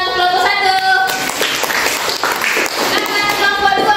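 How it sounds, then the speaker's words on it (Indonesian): Classroom applause for the first student group after its presentation in a Christian religious education lesson: a dense, steady wash of clapping that starts about a second in and keeps going, fairly loud and close. "kita beri tepuk tangan untuk kelompok 1"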